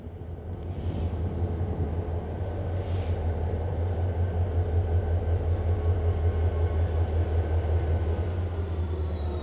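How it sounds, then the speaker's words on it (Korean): Korail Mugunghwa train 1945, hauled by diesel locomotive 7481, pulls into Hallimjeong station. A steady low diesel rumble and wheel noise build and hold throughout, fairly loud and continuous, with no talk over it. "1945 열차 진입하겠습니다"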